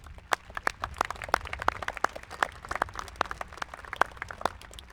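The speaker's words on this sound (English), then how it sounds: "Our custodial staff, our secretaries, and our tech staff deserve a big round of applause for getting things just right for tonight's event." Graduation audience at a high school ceremony clapping steadily, many sharp overlapping claps at moderate distance in a large hall, sustained and fairly even with no talk.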